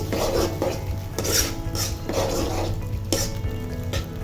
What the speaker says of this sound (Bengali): এক টেবিল চামচ সয়া সস দিয়ে দিলাম আর ওয়েস্টার সসও এক টেবিল চামচ দিয়ে দিলাম দিয়ে খুব ভালোভাবে মিশিয়ে নিচ্ছি